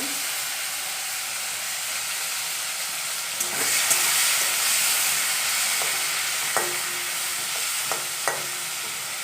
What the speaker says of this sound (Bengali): এখন এটা একটু হালকা তেলে ভেজে নেব